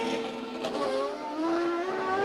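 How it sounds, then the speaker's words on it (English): IndyCar race car engine revving, a loud, continuous buzzing drone that dips briefly and then climbs steadily in pitch as the revs rise. "And up come the revs."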